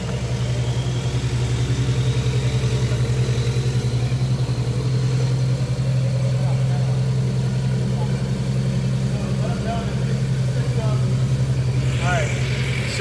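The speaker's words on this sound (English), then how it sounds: "let's fire it up and let it idle a little bit" A Porsche engine with no mufflers idles steadily in sport mode, exhaust valve open, giving a loud, continuous low rumble for the whole stretch while people talk nearby.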